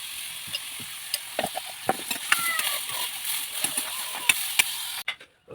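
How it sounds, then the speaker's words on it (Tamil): Onions sautéing in oil in a village-style kitchen, with a steady bright sizzle, scattered stirring clicks and spatula taps, and a sudden cut near the end. "வெங்காயத்தை நல்லா வதக்கி போடலாம். ஆயில் வந்துடும்."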